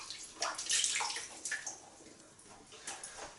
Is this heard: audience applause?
no